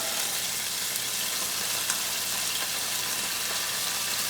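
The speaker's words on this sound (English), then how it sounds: "oil is jumping up and burning my arms as I go" Meat browning in spattering hot oil for an Irish Guinness stew, a steady, dense sizzle with scattered crackles and pops, close and loud, with no voices.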